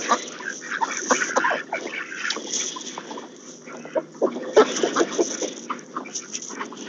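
Ducks quacking at close range from ground level on a small farm with chickens nearby, a busy chorus of overlapping calls and clucks with no talk.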